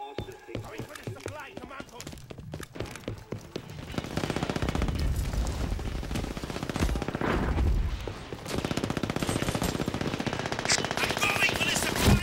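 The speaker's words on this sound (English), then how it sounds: "Nice with the MG nest." A machine gun nest in the shooter game Brink fires long, rapid, continuous bursts that grow denser and louder and stay dense to the end, mixed with other gunfire.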